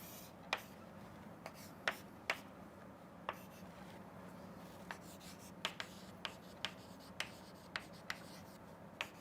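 Pen strokes drawing a diode's IV characteristic graph by hand, heard as a dozen short, sharp ticks and scratches spread irregularly over a steady low hum.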